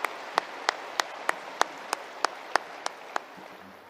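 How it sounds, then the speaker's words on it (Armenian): A single person claps in a steady, even rhythm, about eleven crisp claps in a row at a formal address on Armenian state bodies, with no talk over them. "Ես էլ ծափահարում եմ։"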